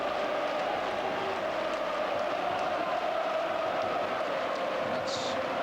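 A large football stadium crowd of over 37,000 at an Arsenal v Sampdoria 1995 night match, a steady dense roar and murmur with a commentator talking over it throughout.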